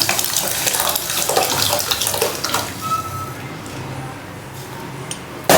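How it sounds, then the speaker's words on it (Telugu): Water runs and sloshes while dal is washed in a pot in a home kitchen, a close, busy splashing and swirling that is strongest at first and then softens toward the end. "కొద్దిగా వాటర్ వేసుకొని పప్పు అంతా క్లీన్ చేసుకుందాం."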